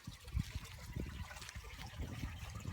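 Small stream on a countryside estate: a faint, continuous trickle and babble of running water with soft irregular splashes, heard alone.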